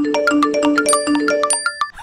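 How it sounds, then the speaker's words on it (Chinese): A loud, bright phone notification chime plays on a mother's mobile phone as a quick run of ringing, bell-like tones that stops abruptly near the end. "通知"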